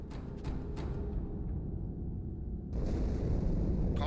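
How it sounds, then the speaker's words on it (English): A deep, continuous rumble of an explosion aboard the ship Athens in Halo 2 rolls on as a dense low roar, swelling slightly louder partway through, with no voices. "Die Explosion kam aus dem Innern der Athen, genau wie bei der Malta."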